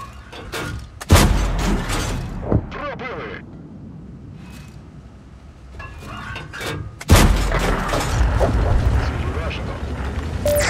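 Tank gun fire in a Skoda T 40 video game battle, two heavy booming shots with rumbling tails spaced several seconds apart, mixed with crew radio voices and battle noise.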